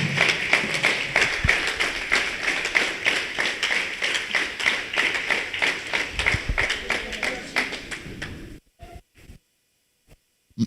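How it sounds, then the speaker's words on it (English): Audience applause following a request for a special round for a staff member at a Tshwane North TVET College event, steady dense clapping for about eight seconds before stopping abruptly, with a few scattered claps after. "Can you therefore give him a special round of applause?"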